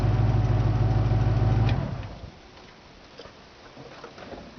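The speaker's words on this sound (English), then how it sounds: "Now that it's warmed up a little bit, let's see with no fuel how it starts." A 1963 Ford Falcon Futura 260 V8 with factory AC runs loud and steady for under two seconds, then cuts out abruptly, leaving faint ticking and quiet room sound.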